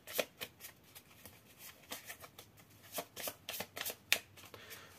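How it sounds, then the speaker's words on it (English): A deck of cards is shuffled at a tabletop role-playing game, with a quick run of riffles and crisp bridging snaps close by, each burst short and rhythmic. "let me shuffle these real quick"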